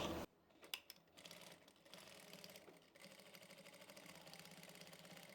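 A sewing machine runs steadily, stitching a finishing seam on a Haryanvi daman skirt, its motor whirring in a continuous mechanical buzz after a few brief starts.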